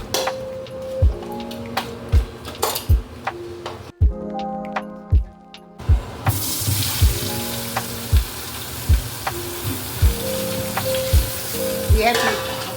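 Eggplant frying in oil with turmeric and chili powder, a strong close sizzle broken by regular knocking strokes of a utensil against the pan, the hiss flaring louder partway through.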